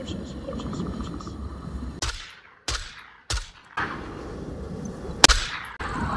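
Gunfire in a shooter video game, several sharp loud shots in quick bursts cutting through steady game ambience, with a final bright crack near the end.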